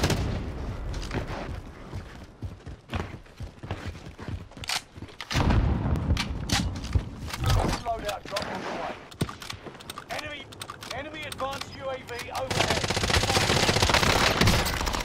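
Suppressive gunfire in a first-person video game, bursts of automatic fire and booms crackling in uneven volleys, with a steady dense stretch of fire at the end and voices talking over parts of it.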